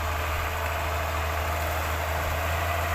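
A large farm tractor's heavy diesel engine runs steadily at idle, a deep continuous rumble with a low throb, close by and unbroken for the whole stretch.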